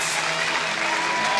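Spectators applaud a runner-up team at a league medal presentation, a brief, dense wash of clapping from a crowd that holds steady throughout.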